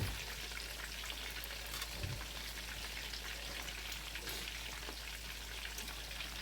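Chicken cutlets fry in hot oil with a soft, steady crackle and sizzle heard faintly from nearby, with no talking.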